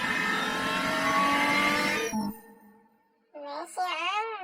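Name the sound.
car accelerating in PUBG Mobile video game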